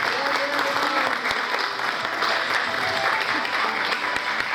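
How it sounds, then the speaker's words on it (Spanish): An audience at a book presentation in Coronel Moldes gives the author sustained, even applause. The dense clapping is heard throughout with a faint crowd murmur beneath it. "Un aplauso para el escritor de este libro"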